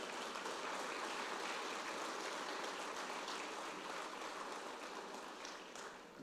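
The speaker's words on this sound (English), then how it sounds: "Round of applause for them" Applause at a city's State of the City address rises for first responders as a steady, faint wash of many hands clapping, dense and continuous with no single claps standing out, fading slightly near the end.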